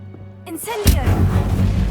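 Incendio fire spell cast in Hogwarts Legacy: a sudden loud burst erupts partway through, then a dense, roaring whoosh of flame carries on steadily to the end, with a faint voice-like tone just before it.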